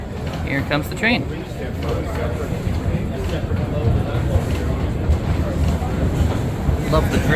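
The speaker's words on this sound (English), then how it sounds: "Here comes the train." The Dragon Coaster, a wooden roller coaster at Rye Playland, has its train arriving at the station with a steady rumble and clatter, heard amid crowd chatter and nearby voices.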